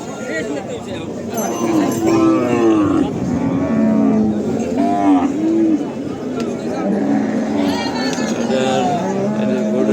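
Cattle moo repeatedly at a busy rural cattle market in Charmonai, Barishal, Bangladesh, where a thin cow with a cut tail stands with its calf; the moos rise over continuous crowd chatter and people talking nearby.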